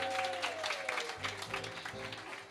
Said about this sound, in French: applaudir les enfants, ils ont fait un gros effort